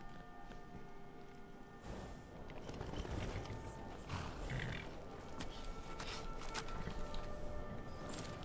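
A horse in the video game Skyrim snorts and stamps amid a busy game soundscape, with roaring, clopping hooves and mechanical clanks layered over a constant background bed.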